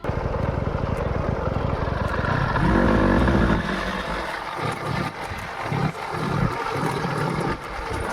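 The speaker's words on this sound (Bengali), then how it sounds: "সুপার বাইক নিয়ে চলে যাচ্ছি পুরো আমাদের গ্রামের রাস্তা দিয়ে" A super bike rides along a village road, its engine giving a steady, loud roar throughout with a brief surge in the middle and no talking over it.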